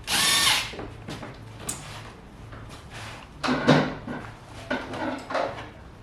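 A power drill drives screws through pre-drilled holes into moulding on an overhead cabinet, an opening whir followed by shorter bursts of motor and clattering handling noises.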